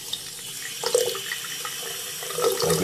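Tap water running from a faucet opened slightly, giving a slow, uniform stream with no bubbles; a soft, steady trickle and splash into a sink that continues throughout, with slight swells partway through.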